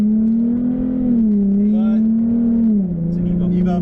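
A red Mitsubishi Evo 10 engine hums steadily with a strong low tone that dips and shifts in pitch as the car goes by, under a voice.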